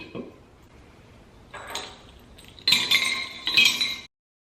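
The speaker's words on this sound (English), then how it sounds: "I just sprinkled those into the jars" Small bells tumble into glass jars, clinking and jingling against the glass in two bursts, the second louder and brighter, before a sudden stop.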